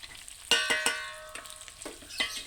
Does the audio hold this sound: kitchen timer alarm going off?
no